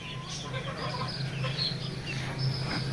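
Fayoumi, Tiger and Desi chickens kept together on a farm cluck and chirp in scattered short calls, close by, over a constant low droning hum.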